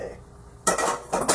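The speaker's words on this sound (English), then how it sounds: "And we want to stir. All the ingredients." A utensil stirs mashed potato ingredients in a pot, quiet at first and then scraping and clinking loudly against the pot in two close bursts.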